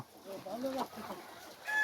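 Desi hens clucking while pecking at rice, putting out a few short, close, throaty clucks within a couple of seconds.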